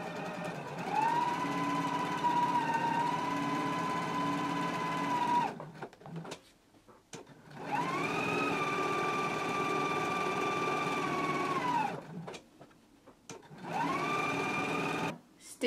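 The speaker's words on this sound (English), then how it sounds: "I'm going to take it to the sewing machine, and we're going to stitch along the sides and the lower edges of the pocket" A sewing machine runs along a pocket seam in three sustained bursts of whirring stitching, separated by short quiet pauses, close and fairly loud.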